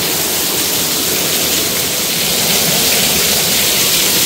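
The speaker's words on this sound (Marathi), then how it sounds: "मुंबईमधला पाऊस थांबण्याचं नाव घेत नाहीये." Heavy monsoon rain pours down in Mumbai, a dense, loud, unbroken roar of rainfall with no pauses or voices.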